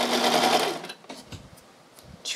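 Sewing machine stitching a short sleeve cuff on a box dress, a steady fast whirring run for under a second before stopping, followed by faint handling clicks and rustles.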